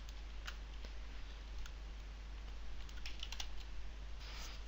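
Quiet keystrokes on a computer keyboard tap out in a soft, uneven run of clicks over a low steady hum, close by and faint, with no voices.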